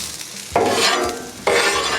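Onions sizzle loudly on a hot griddle as a spatula scrapes and pushes them aside in two firm sweeps, close up and with no voices, while a smashburger is being cooked.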